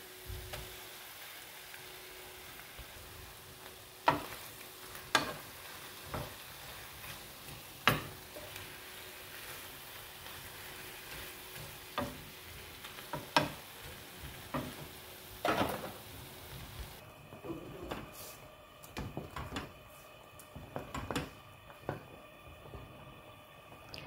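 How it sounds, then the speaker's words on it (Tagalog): Salsiccia sausage frying in a pan in Italy, a steady sizzle with repeated sharp clicks and taps of a utensil stirring and scraping, close and without talk. "Ngayon, ilagay na natin ating salsiccia."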